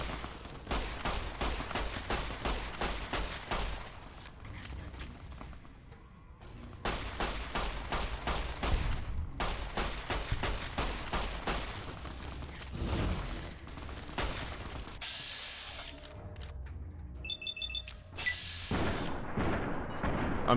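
Rapid gunfire from the video game Fallout New Vegas, with dense volleys of shots and booms in bursts separated by brief lulls, followed by a stretch of mechanical clicks and pings.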